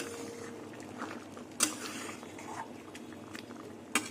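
A Madrasi-style duck egg and potato curry simmers in its gravy, giving a soft, steady bubbling with a few sharper pops close by.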